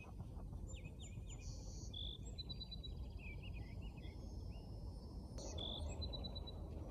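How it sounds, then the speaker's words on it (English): Birds sing and chirp outdoors in a continuous run of high calls, fairly distant, over a steady low rumble of background ambience, with no talking. "Birds are out and about today."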